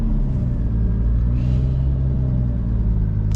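A JZ-engined car idles close by, a deep, loud, steady rumble with a slightly lumpy pulse and no speech over it.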